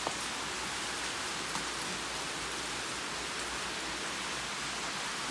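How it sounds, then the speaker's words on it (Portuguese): Heavy rain pours steadily at a rural farm, a dense, continuous roar of close downpour that stays loud and even throughout, with no voices. "tá muito grossa essa chuva"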